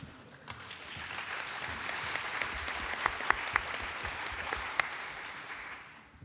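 An audience at a university diversity forum faculty panel applauds steadily for several seconds, dense clapping that swells and then fades out at the end.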